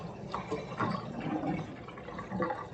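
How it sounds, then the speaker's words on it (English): Washed collard, mustard and turnip greens have their water poured and drained off, giving a soft, steady trickle and splash of liquid up close at low volume. "Now I'm draining that water off."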